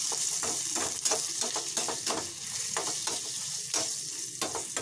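A coconut and onion paste is stirred into frying liver for a pepper liver fry, making a steady close sizzle with a regular rhythm of spoon scrapes and taps against the pan.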